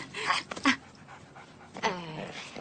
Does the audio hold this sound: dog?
yes